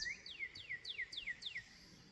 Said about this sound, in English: you can hear the birds and stuff. There's a lot of pretty birds out here